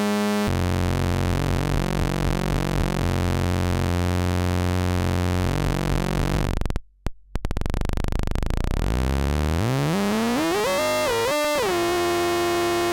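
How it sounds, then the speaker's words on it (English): A PO 400 modular synth produces harsh FM tones, its triangle LFO modulating the oscillator's FM input: sustained buzzing, pitch-wobbling drones that briefly cut out, then return with sweeping, rising and falling metallic tones. "you can get these nice and nasty FM tones"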